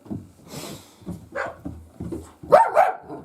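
A Laika dog barks several times in short, sharp bursts, fairly close, growing louder toward the end.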